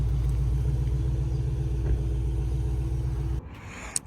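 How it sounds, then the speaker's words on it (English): A car pulling away on a test drive after a glass replacement, its engine a steady low rumble close by for several seconds, then cutting off abruptly to near silence with a single faint knock at the end. "they're going to have to take the car for a drive and all that stuff"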